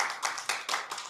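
Light hand claps from an audience member at a small talk-style gathering, several soft separate claps sounding close.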